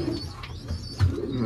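Racing pigeons coo softly inside a loft, a couple of low throaty calls heard close up over about a second and a half.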